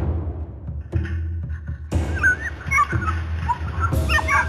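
A puppy shut in a capture trap for wild dogs on Bukhansan whimpers and yips in short bursts, thin cries rising over low thumps from the trap, fairly close.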